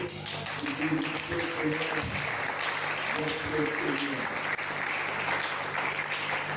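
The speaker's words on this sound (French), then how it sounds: "Cette parole mérite des acclamations." A church congregation bursts into sustained applause, a dense wash of clapping filling the room for several seconds, with voices faintly mixed in.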